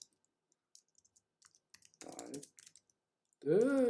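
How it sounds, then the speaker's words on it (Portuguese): Computer keyboard keys clatter in sparse, scattered clicks across a quiet room during a JavaScript coding lesson, with someone speaking briefly partway through and again at the end. "Hoje o teclado tá vivo."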